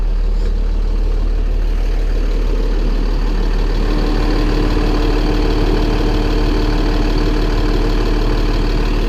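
A Cummins 6.7L ISB diesel engine in a 2015 International 4300 Durastar truck idles in a steady, loud, continuous low rumble with an even mechanical throb that stays constant throughout, and no one talks.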